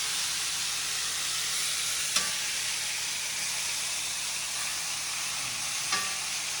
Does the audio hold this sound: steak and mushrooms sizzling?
yes